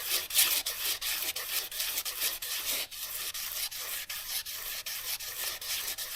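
Sandpaper is rubbed round and round on a Cummins diesel engine crankshaft, producing a close, rhythmic rasping scrub that repeats in quick even strokes, with no talking.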